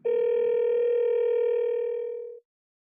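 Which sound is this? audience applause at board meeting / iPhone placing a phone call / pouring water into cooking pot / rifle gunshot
iPhone placing a phone call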